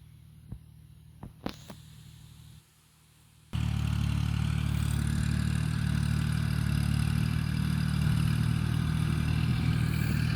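After a few clicks and a brief quiet, the diesel engine of a Kubota 4018SP tractor starts and runs steadily with a loud, rattling, throbbing chug.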